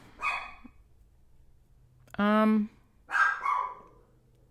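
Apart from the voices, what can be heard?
dog barking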